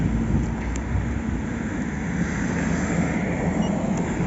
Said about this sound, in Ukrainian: Послухаємо, як працює двигун